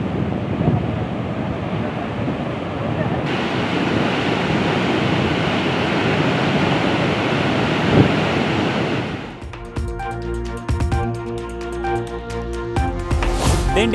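Floodwater roars out of the Veedur dam, filled by heavy rain, as a steady broadband rush of released water runs loud for about nine seconds before a cut to a different, rattling mechanical scene.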